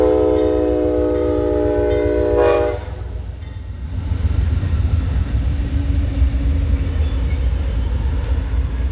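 An Amtrak passenger train sounds a long, loud horn blast for a few seconds, then rumbles and clatters steadily past close by.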